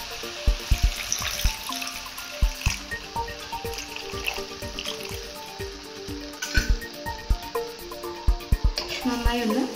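Water is poured into a pan of cooking anchovies for an anchovy peera, splashing and sizzling close up amid clinks and clatters of utensils.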